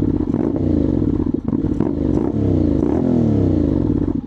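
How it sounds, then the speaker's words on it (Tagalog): Honda X-ADV 750 scooter fitted with a LeoVince LV Pro aftermarket exhaust, revved hard while standing still. The engine roars loud and close with a rough, throaty rasp and rises and falls through several blips. "Bomba natin ng konti."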